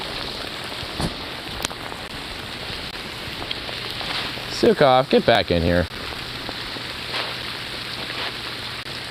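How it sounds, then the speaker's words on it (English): Hail falls steadily outdoors, a dense constant hiss and patter throughout with a few sharper impacts, while someone shouts briefly over it partway through. "So it is hailing, that's for sure"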